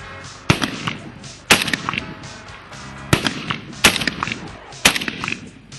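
Gunfire at a shooting range: five or six sharp, loud single shots spaced about a second apart, each with a short ringing tail, over faint background noise.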